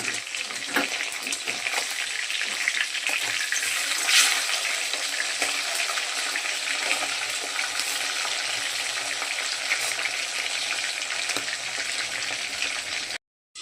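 Large pieces of tangra fish fry in oil in a partly covered pan for a Bengali kaliya, giving a steady, close, loud sizzle with crackling that runs without a break and with no talk.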